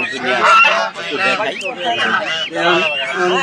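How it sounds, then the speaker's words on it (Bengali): Geese honk loudly and repeatedly at close range at a busy poultry market, a noisy overlapping chorus that continues throughout, with voices mixed in. "বাড়ির পাশে দেখতে পাচ্ছি রাজহাঁস"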